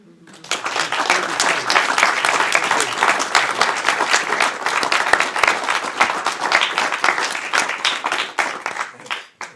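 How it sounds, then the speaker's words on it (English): A community audience applauds an award recipient, with close, crisp individual claps quickly building into a lively, sustained round that lasts several seconds before stopping abruptly. "round of applause for Rick"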